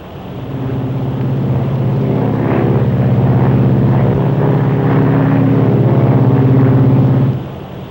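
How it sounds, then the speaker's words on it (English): Steady, loud droning hum of propeller engines inside the cabin of a Super Constellation airliner, with a low rumbling tone that holds constant before dropping off near the end. "It's a wonderful airplane, that Silver Falcon."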